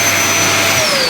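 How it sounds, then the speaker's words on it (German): A central vacuum cleaner built into a Polar 680 Customized 2022 caravan runs with a loud, steady whining roar and a high tone that slowly drifts down, heard up close with no talking. "Du hast einen Zentralstaubsauger hier"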